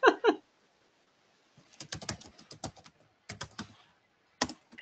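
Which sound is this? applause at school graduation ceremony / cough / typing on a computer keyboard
typing on a computer keyboard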